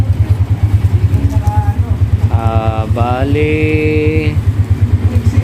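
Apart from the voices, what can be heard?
Yamaha Sniper 150 motorcycle engine running after repair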